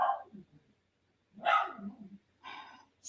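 A dog barks in a few separate bursts with short gaps between them, fairly close and clear, with no talking over it.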